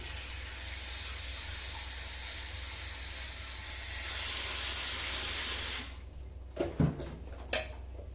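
Tap water gushes in a loud continuous hiss into a pot as freshly churned butter is washed in a home kitchen, then cuts off abruptly, followed by a few brief knocks and clatters.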